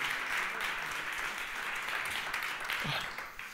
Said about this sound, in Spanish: Así que, oye, un aplauso para ella